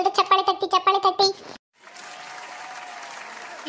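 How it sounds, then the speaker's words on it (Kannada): Several people clap together in brief rhythmic bursts at a home ritual of boiling over milk, close and lively, then stop; a steady background murmur and hum follow after a short silence. "ಎಲ್ರು ಚಪ್ಪಾಳೆ ತಟ್ಟಿ"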